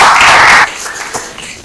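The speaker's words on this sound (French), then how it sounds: "Sous vos applaudissements bien sûr." Studio audience applause welcoming a contestant on a game show, a dense burst of clapping for about half a second before it drops away into quieter room noise.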